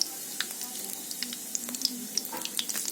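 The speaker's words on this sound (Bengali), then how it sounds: "তো বন্ধুরা কালো জিরে ফোড়নে দিয়ে দিচ্ছি" Nigella seeds tempering in hot oil in a kadai for a Bengali fish dish, giving a soft steady sizzle with scattered light crackles and pops, no talking over it.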